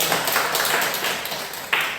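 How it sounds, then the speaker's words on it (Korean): A church congregation claps together in thanks after a prayer, a steady dense wash of many hands filling the room for two seconds, with one sharper burst near the end. "함께만 감사의 박수 하겠습니다"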